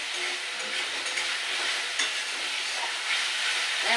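Spice paste for a fish curry with bottle gourd greens is stir-fried in a pan, a continuous close sizzle with soft stirring scrapes and no voices.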